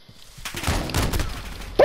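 Gunfire from Call of Duty: Modern Warfare, a loud rapid burst of shots running for over a second with no talk over it.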